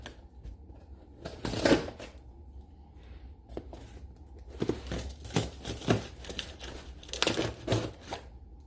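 Crinkling, rustling and tearing noises come from a cardboard package being opened for a car wind noise reduction kit, with bursts of crisp handling and paper shuffling spread across the stretch.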